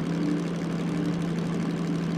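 A DM3 diesel locomotive in the Derail Valley train simulator runs at steady revs, giving a loud, constant low engine drone with a steady hum, alone and without talk.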